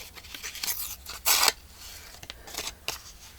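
Scissors cut through junk mail paper while making journal cards: a few quiet, close snips and scrapes, with one sharper, louder cut in the middle.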